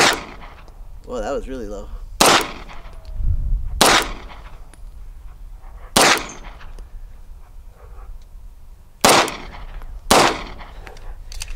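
Pistol shots from a Browning Hi Power or Beretta 92 ring out at a range, six sharp cracks spaced a second or two apart, loud and close with short ringing tails, as someone speaks briefly between them.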